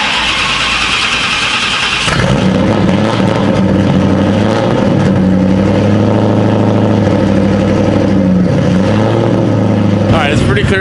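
A car engine cranks briefly, catches, then settles into a steady, loud idle that holds close by for several seconds before a slight change near the end.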